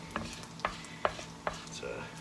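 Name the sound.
crispy pancetta sizzling, lifted from pan with slotted spoon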